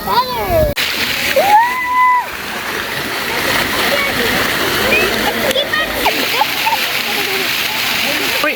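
Water from a town-square fountain in Poděbrady, Czech Republic, splashing steadily as a continuous broadband wash, with people talking over it throughout.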